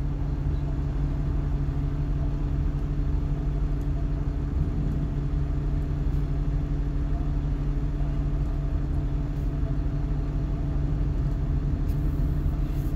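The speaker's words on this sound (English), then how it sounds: "Two thousand eight Blue Bird, All American, rear engine, CNG." A 2008 Blue Bird All American rear-engine CNG school bus drones steadily with a low rumbling hum and whir, constant and unchanging, no voices.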